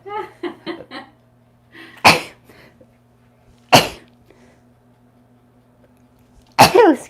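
Three loud, sharp sneezes spaced a couple of seconds apart, after a few short vocal sounds, with a low steady hum underneath.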